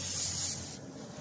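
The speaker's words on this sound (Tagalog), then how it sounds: "I-spray muna natin para hindi dumikit." Cooking oil sprays from a can onto a pan before grilling fish, a steady close hiss that fades after about half a second with no talk.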